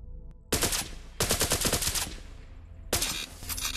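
A sidearm fires at a target dummy in the Larcenauts VR game on Oculus Quest 2, producing three loud, rapid bursts of gunfire with short pauses between them and no talking.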